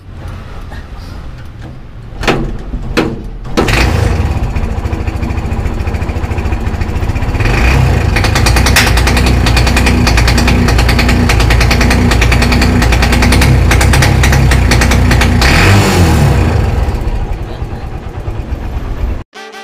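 A Kawasaki Barako 175 motorcycle engine revs loud and close, rising into a sustained rough, rapid crackle of backfire pops before settling, with faint talk at the start.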